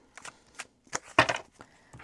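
Tarot cards shuffled by hand during a reading, giving several short, papery riffling bursts that come close together and stop and start irregularly, with no voices.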